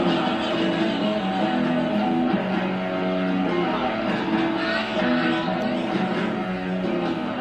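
Heavy metal electric guitar from a 1980 song plays steadily throughout, dense and distorted at a moderate level, blended with the rest of the band, with no clear speech.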